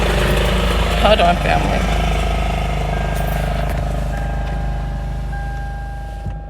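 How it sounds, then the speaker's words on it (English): A neighbor's lawnmower runs nearby with a steady, loud engine drone that slowly fades as it moves away, while a person speaks briefly over it. "The neighbor done just started cutting his grass."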